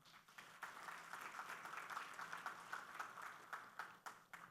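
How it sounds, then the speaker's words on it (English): An audience at a pharmaceutical industry annual day gathering claps in a soft, fairly even patter, faint and somewhat distant, with no talking over it. "I think we can applaud."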